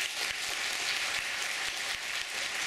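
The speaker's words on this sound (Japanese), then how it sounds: "まずは全員に拍手をお願いします。" An audience at a live solo comedy show applauds together, a steady dense wash of clapping that runs evenly from start to end with no voices.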